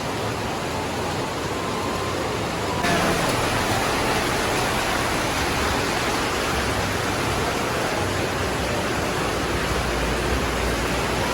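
Rain falls outside during a dinner out, a dense, continuous hiss that swells sharply louder a few seconds in and then holds steady and close, with no voices.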